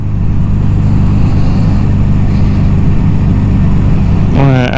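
A 1982 Suzuki GS750T motorcycle engine runs steadily and loud, a low throbbing drone throughout, with a brief rising rev near the end.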